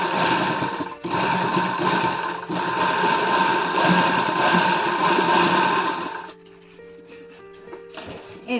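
A sewing machine stitches in a steady, loud whir for about six seconds with a couple of brief pauses, then stops, leaving quieter mechanical clicks and a short restart at the end.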